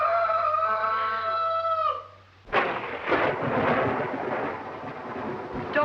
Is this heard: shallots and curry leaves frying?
no